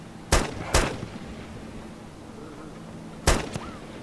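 Gunfire in DayZ Origins near a wall by a street in Ekaterinburg: two loud, sharp shots in quick succession, a pause of over two seconds, then another pair of cracks, each ending in a short echoing tail.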